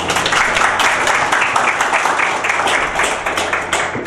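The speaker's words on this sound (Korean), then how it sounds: "많은 박수 부탁드립니다" An audience at a city lecture on future cities breaks into steady, dense applause, loud and sustained for a few seconds, with a slight swell and fade and no voices over it.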